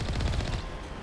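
Rapid automatic gunfire from enemy gas rocket troopers in the video game Mass Effect Legendary Edition, a dense burst of shots for about half a second that then tapers into quieter combat noise.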